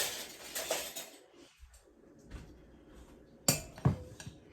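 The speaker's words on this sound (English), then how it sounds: "I'll spread them out with the spoon." A spoon scrapes and clinks against a casserole dish while raisin bread French toast casserole is spread out, with a few sharp knocks near the end among soft scraping, close and fairly quiet.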